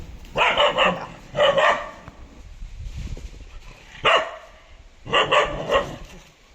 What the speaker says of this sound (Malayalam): ഇവിടെ ഒരു ഫൈറ്റ് കിടക്കട്ടെ പന്നിയും നായയും